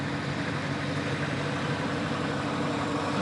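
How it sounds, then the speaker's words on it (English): An International McCormick WD-9 diesel tractor rolls by in a county fair parade, its engine a steady, low rumbling drone held at an even level throughout, fairly close and with no speech over it. "Another International McCormick, a WD-9 diesel tractor."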